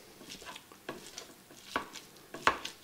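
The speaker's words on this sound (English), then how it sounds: "I'll go ahead and get this hamburger meat cut up a little bit" Hamburger meat is broken up in a pan on a countertop burner, with a soft sizzle under scattered scraping and tapping from the utensil, including a couple of sharper knocks.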